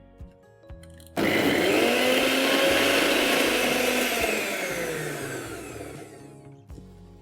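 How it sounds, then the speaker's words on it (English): A kitchen blender starts abruptly and whirs loudly and steadily, grinding blanched spinach into a smooth puree, then winds down toward the end. "Just add it in the blender"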